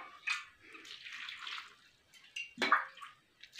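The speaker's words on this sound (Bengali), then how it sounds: "ফাইনালি ধোয়া আরম্ভ করে দিছে" Cauliflower is rinsed under running water, giving soft, intermittent splashes and drips at a quiet level, with no voices.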